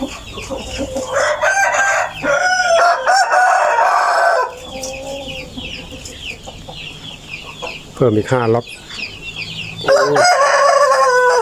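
Chickens on a Thai farm, with hens and chicks wandering in their pens. A rooster crows loudly and close by several times amid steady clucking, and someone speaks briefly between the calls.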